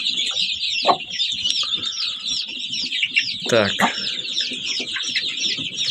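A broody hen clucks in low, short bursts amid a dense chorus of high chicks cheeping continuously; a person speaks a brief word.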